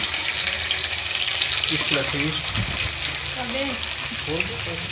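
Egg fries in hot ghee for fried rice, a continuous loud close sizzle and hiss running throughout while a person talks over it.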